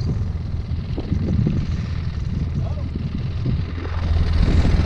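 Heavy wind buffeting the microphone outdoors in bitter, Antarctic-like cold, a loud continuous low rumble that swells toward the end, with people talking under it.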